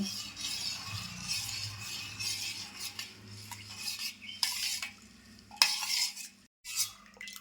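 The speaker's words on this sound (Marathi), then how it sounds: "आता हे मिक्स करून घेतलं आहे गूळ." A spoon stirs melted jaggery in a cooking pot for a homemade kharvas dessert, scraping and clinking softly against the metal with an irregular rhythm, close and fairly quiet, with a few sharper knocks near the end.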